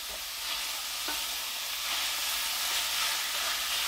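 Ground beef frying in a pan, a steady close sizzle with occasional soft scrapes from a spoon stirring the meat, and no voices.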